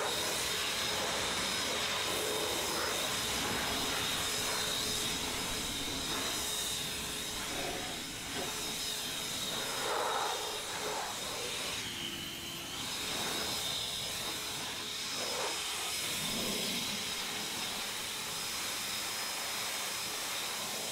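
An Ego Power+ cordless air blower used for drying cars runs steadily and loudly throughout, a continuous broadband rushing hiss with a faint high whine and small dips in airflow.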